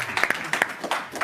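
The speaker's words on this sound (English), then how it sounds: "give him a round of applause" An audience at a political panel event in South Carolina gives brief, scattered applause: a handful of distinct claps at uneven intervals over a low murmur.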